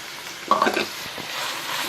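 Green chilies frying in a pan for chicken fried rice, a steady soft sizzle with a brief louder burst of stirring and scraping near the middle.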